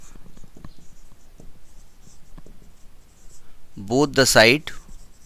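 Pen strokes scratch faintly on paper while solving a calculus differential equation, soft and intermittent, before someone briefly speaks near the end.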